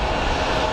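A fixed-wing airliner rolls out after a short-field style landing at Geneva Airport, a brief steady engine roar at moderate distance with no talk.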